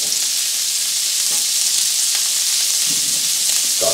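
Onions and bacon frying in a pan give a steady, loud sizzle throughout, with faint stirring scrapes now and then and no talking.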